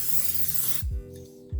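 Cooking spray (palm oil) hissing onto a baking pan for banana bread, a close, steady spray burst lasting under a second, followed by soft knocks from handling the can and pan.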